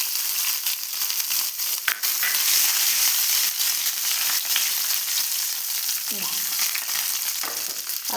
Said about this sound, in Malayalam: അപ്പോൾ ഇത് എടുത്ത് മുന്തിരിയും കൂടി ഇതിലേക്ക് ഇട്ട് കൊടുക്കുന്നുണ്ട്.